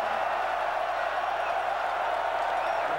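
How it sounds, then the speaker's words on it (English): A stadium crowd at a college football game, Colorado against Colorado State in 2001, roars in a broad, sustained wash of cheering noise, steady and loud throughout. "Listen to the crowd."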